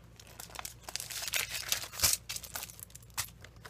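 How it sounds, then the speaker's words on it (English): Plastic packaging from a card making and die kit crinkles and rustles continuously in close, soft bursts as it is handled, with no talking over it. "I'm sorry I'm crinkling this all up."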